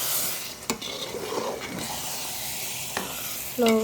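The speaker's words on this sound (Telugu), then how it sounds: "ఒకసారి అన్నీ కలిసేలా కలుపుకుందాం" A spoon stirs chicken gongura gravy curry in a pan, with a soft sizzle and a few sharp scrapes and clinks against the metal. A brief voice comes in at the end.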